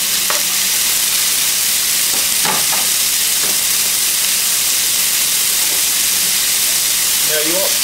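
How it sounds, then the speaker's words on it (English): Chopped onions and garlic hiss and sizzle steadily in a pan over medium heat, with a few brief knocks of stirring near the start and middle. "add your onions and garlic that you just chopped up"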